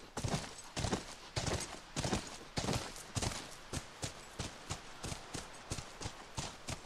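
A horse trots in The Last of Us on PS3, its hooves striking in a steady, even clip-clop rhythm that stays close and fairly loud throughout with no other sounds competing.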